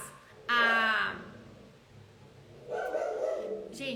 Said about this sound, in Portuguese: As cachorras muito doidas. São tipo 7 horas da manhã e elas já estão latindo como se não houvesse amanhã.